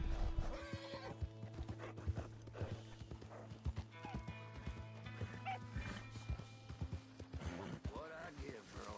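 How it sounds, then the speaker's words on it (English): Horses in the Red Dead video game, including a Bay Turcoman, with rhythmic hoof clip-clop and loud neighing and whinnying over a game soundtrack, with a voice talking at times. "What I give for a horse as fine as that."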